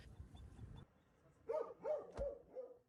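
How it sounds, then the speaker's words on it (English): Search and rescue dogs trained to find earthquake survivors bark three times in quick succession at moderate distance, after a short stretch of low rumbling background. "5 canine search specialists, dogs trained to sniff out survivors among the earthquake's devastation."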